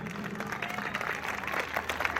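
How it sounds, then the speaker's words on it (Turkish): Applause from the audience at an iftar gathering, a moderately distant, even wash of many hands clapping with faint crowd murmur underneath. "Ceyhan Belediyesi ekibi için de bir alkış istirham ediyorum."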